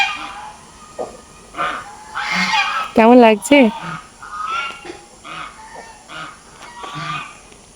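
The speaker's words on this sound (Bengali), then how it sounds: "কি সুন্দর রাজহাঁসগুলো।" Geese honking close by, a few loud nasal honks in the middle amid softer fowl calls, with someone speaking before and after.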